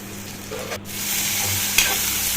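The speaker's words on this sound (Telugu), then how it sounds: "బాగా మనం వేయించుకోవాలి వేగే వరకు" Onions frying in a pan with curry leaves, salt and turmeric give a continuous close sizzle, with a stirring scrape partway through.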